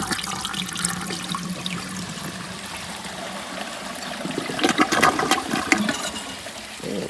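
A 1980 Eljer Emblem toilet flushing, a close rushing surge of water that swells midway into a louder gurgling swirl before easing off, heard alone without voices.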